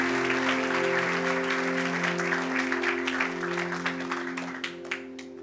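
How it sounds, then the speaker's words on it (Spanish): A church congregation applauds loudly and steadily, with an organ-like sustained chord underneath, the clapping thinning toward the end. "¿Cuántos le pueden dar un aplauso bien fuerte?"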